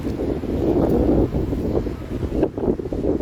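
Strong, cold wind buffets the microphone at Zero Point in snowy North Sikkim, a steady low roar that swells and dips for a few seconds, with no voices.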